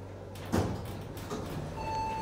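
Sliding doors of an Ennis lift at the Sports Direct in Carrickmines, Dublin, rolling along with a soft knock near the start, over a steady low hum, followed by a faint held electronic tone.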